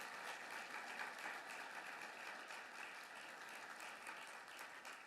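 A crowd claps at an AHL hockey Hall of Fame induction and awards ceremony, with a steady, even applause that holds for several seconds and is heard fairly faintly and alone.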